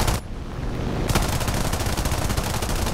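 Sustained rapid machine gun fire from a P-36A fighter plane in War Thunder air arcade combat, a loud continuous rattling burst running throughout over steady engine drone.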